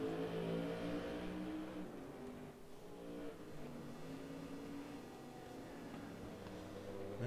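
A Porsche race car engine drones steadily in a GTO Classics and Group C endurance racing video game, a continuous mid-pitched roar with harmonic layers that dips briefly and swells again, moderately loud and with no voices over it.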